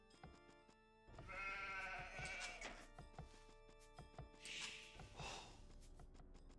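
Sheep bleat in Age of Empires II, two drawn-out wavering calls close together with a game click and clatter around them, no talk over them.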